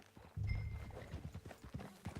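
Horse hooves in the video game Red Dead Redemption 2 clip-clop in a quick trotting rhythm, moderately close and faint, with a low rumble underneath.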